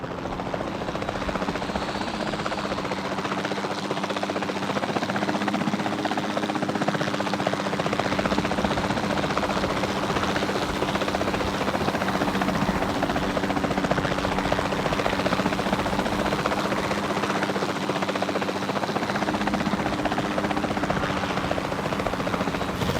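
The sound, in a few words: capture team helicopter in the video game Jurassic World Evolution 2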